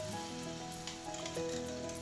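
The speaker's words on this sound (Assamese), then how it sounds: "আৰু লাহে লাহে এইখিনি ভাজি থাকিম।" Spice paste for a paneer curry sizzles gently in a pan over low heat, a soft, steady crackle lasting a couple of seconds with a faint tonal hum beneath and no talk.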